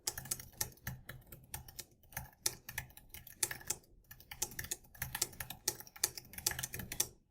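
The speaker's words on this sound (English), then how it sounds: "I will click save and then begin typing my idea" Rapid keystrokes on a computer keyboard, close and crisp, in irregular bursts with short pauses, no voices.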